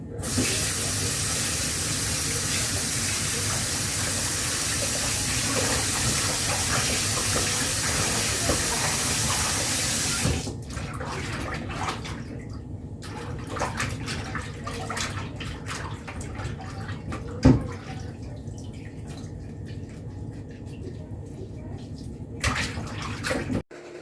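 Tap water runs in a steady hiss for about ten seconds while raw parrotfish is washed for a Jamaican steamed fish dish, then gives way to quieter kitchen handling noises and a single sharp knock.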